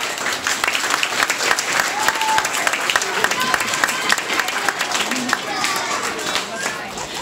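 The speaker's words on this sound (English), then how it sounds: "So a round of applause to Annalise and Malachi." An audience claps continuously for award-winning students at a school ceremony, a dense, even patter of many hands lasting several seconds, with little else heard.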